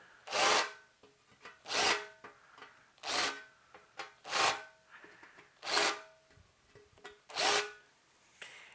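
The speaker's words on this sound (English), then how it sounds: "deburr them like that" Drilled mounting holes in a metal tube amplifier chassis being deburred by hand: seven rhythmic rasping scrapes, each about a second long and evenly spaced, close and fairly quiet with no voices.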